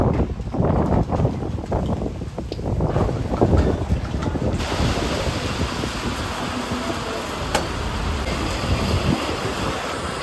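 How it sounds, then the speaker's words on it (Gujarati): Strong wind and rain buffeting a rider on a stormy road trip in Gujarat, a loud rumbling roar of gusts battering the microphone, heavy and uneven at first, then a steadier hissing rush. "આજુ બહુ જ પવન આવે છે ને બહુ જ વરસાદ આવે છે."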